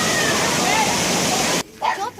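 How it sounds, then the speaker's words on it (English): A waterfall at the top of a stream on a property in Adjuntas, Puerto Rico, roars as a dense, steady rush that cuts off abruptly near the end, followed by a brief voice. "This is at the top of the stream where the waterfall is at."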